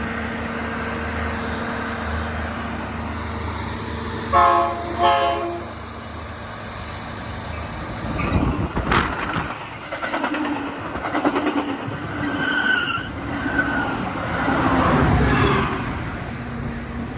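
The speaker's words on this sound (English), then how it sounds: "Now we got an eastbound Metra coming, heading from Metra's Aurora, Illinois Transportation Center to Chicago Union Station." An eastbound Metra commuter train, headed from Aurora to Chicago Union Station through LaGrange, Illinois, sounds its horn in a couple of blasts, then rumbles and clatters past close by.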